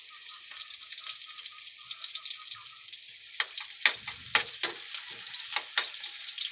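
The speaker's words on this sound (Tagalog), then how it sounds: "Papula-pulahin ko lang ng konti yung sibuyas." Sliced onions sautéing in oil in a pan as the base for sardines, a continuous close sizzle, joined midway by several sharp clacks and scrapes of a spatula against the pan, with no voices.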